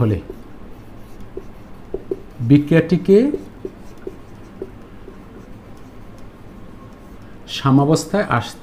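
Steady pen-on-paper writing scratches through most of the stretch during a Bengali chemistry lecture, close and quiet, with short bursts of a man's speech at the start, middle and end.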